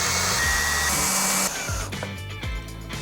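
Power driver whirring Phillips screws through hinges into pre-drilled holes on a PVC reptile enclosure, a loud continuous motor whine that drops in pitch partway, followed by short stop-start bursts as the screws seat.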